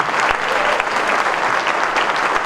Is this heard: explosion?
no